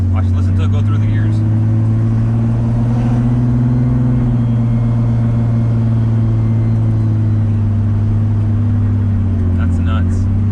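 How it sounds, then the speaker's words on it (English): A Toyota Supra with a full exhaust accelerates through its gears, its loud, deep engine drone rising and dropping at each shift, close and continuous. "Watch, listen to it go through the gears."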